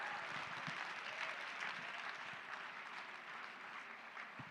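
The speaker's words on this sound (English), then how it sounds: "Give him a round of applause." Steady applause from an audience at a live charity stream event, continuous and moderately distant, filling the whole stretch with dense clapping and no talk on top.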